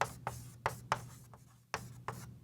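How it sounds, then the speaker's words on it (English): Pen or pencil writing by hand on paper, a few distinct scratchy strokes in short bursts with pauses between, close and fairly quiet in a silent room. "I'm just going to write"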